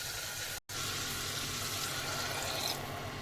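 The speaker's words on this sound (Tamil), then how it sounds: "இப்போ இதுக்கு தேவையான தண்ணி ஆட் பண்ணிக்கலாம்." Water poured into a pot of rice and dal for cooking, a steady broadband rush of liquid filling the vessel, continuous and close, with a brief cut near the start.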